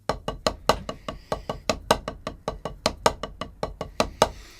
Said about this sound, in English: we're going to take that inverted 6-stroke roll